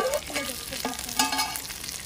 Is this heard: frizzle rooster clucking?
no